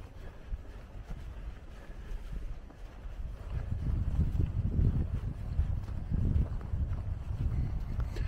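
Gusty outdoor wind buffets the microphone along the Compostela pilgrimage route, a steady low roar that swells louder about halfway through and holds, with no voices.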